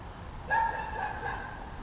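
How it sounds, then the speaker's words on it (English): A dog barks once or twice at a distance in a quiet outdoor neighborhood near a fishing pond, brief and fairly faint. "Just about every direction I hear a dog barking at me."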